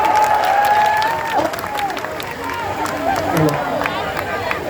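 A crowd claps at an outdoor protest gathering in Delhi, a moderate wash of applause mixed with crowd noise while a voice speaks over it.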